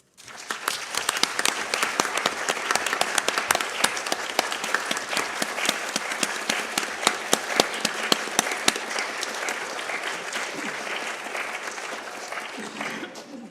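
A round of applause fills a city council chamber, dense clapping from the gathered councillors and guests holding steady for about thirteen seconds before cutting off abruptly.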